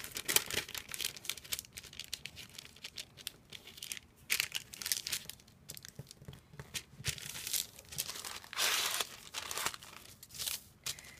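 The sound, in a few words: folding paper lining for a soap mould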